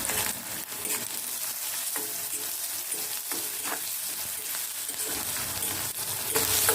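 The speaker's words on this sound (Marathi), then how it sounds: "कांदा देखील आपल्याला सोनेरी कलरचा होईल पण परतवून घ्यायचा आहे" Onions sautéing in a pan with a little salt: a dense, steady sizzle of frying runs throughout, broken by soft scraping clicks from stirring.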